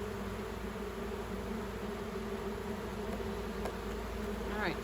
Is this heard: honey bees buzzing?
yes